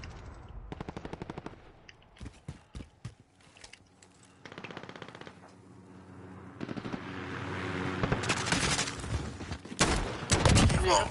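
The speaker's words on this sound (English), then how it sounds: "Friendly sentry gun online." An automated sentry gun in a shooter video game fires in rapid bursts, stuttering clusters of shots that grow denser and louder toward the end, with brief pauses between volleys and light talk underneath.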